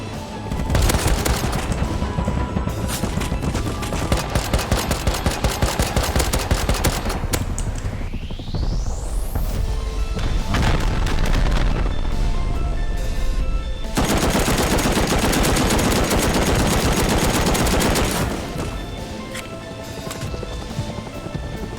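Rapid automatic gunfire rattles in long loud bursts during a battle in the video game Rust, with a brief rising sweep and short pauses between volleys.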